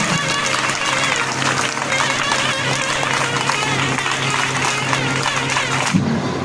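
Children clapping at a judge's retirement ceremony, a dense, steady wash of applause running throughout at close range, with crowd noise and some voices mixed in, dropping off right at the end.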